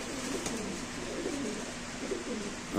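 Racer pigeons kept by a pigeon seller give soft, repeated cooing calls, moderately faint and steady, with no talk.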